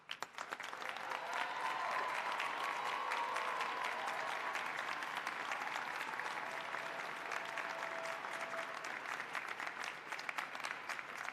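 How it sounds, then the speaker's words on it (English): A large commencement crowd applauds the faculty, a dense, steady roar of clapping that swells within a second and holds evenly for about ten seconds, with a faint held tone running beneath. "Faculty members, please stand and receive a well-deserved round of applause"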